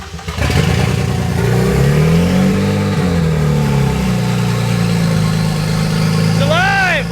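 A BMW 135i with an N54 engine runs loudly and close by, holding a steady idle drone with a rising and falling rev near the start and a brief higher whine near the end.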